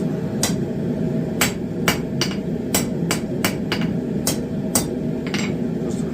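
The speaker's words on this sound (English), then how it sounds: "I will have to hammer that just a little bit." Sharp metallic hammer strikes on a forged eye on a metal rod ring out about a dozen times at an uneven pace, loud and close over a steady background hum.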